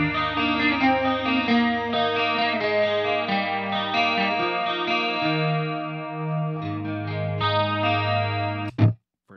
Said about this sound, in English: I've got a chamber reverb on there.